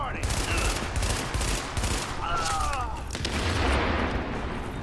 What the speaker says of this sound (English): I like it that I can control it better in the burst fire